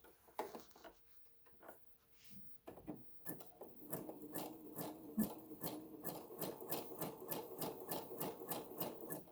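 A sewing machine stitches along the raw edge of fabric for a little dress, starting with a few slow taps, then settling into a steady, fast, rhythmic run of needle strokes heard close and alone.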